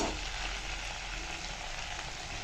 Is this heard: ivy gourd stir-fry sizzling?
yes